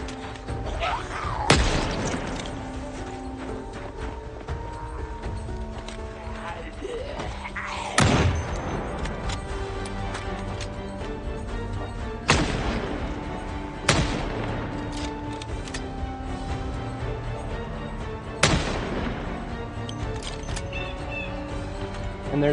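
Gunfire in the video game Project Zomboid: five loud, sharp shots ring out several seconds apart, each leaving a short echoing tail over a steady game background.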